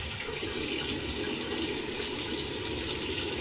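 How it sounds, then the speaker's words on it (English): Tap water runs in a steady, close, continuous stream over dentures being rinsed in a sink, with no other sounds on top. "rinse them off,"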